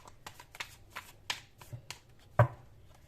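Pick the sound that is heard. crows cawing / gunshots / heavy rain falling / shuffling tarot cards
shuffling tarot cards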